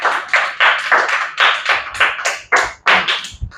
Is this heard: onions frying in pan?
no